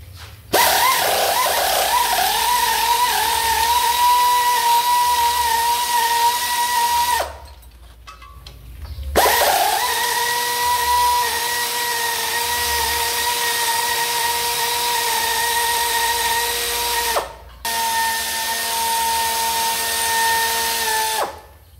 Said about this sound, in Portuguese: Vamos remover aí as porcas 12 milímetros do coletor.